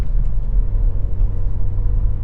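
A 2009 VW City Golf accelerates at highway speed, its engine hum and road rumble steady and close throughout with no talk over it.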